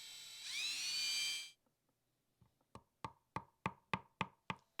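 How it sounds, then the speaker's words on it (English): A drill whines for about a second as it bores through a metal medallion into a wooden hiking stick. After a pause, a run of sharp, evenly spaced knocks follows, close and clear in a quiet room. "I rebend the medallion around and drill the second hole"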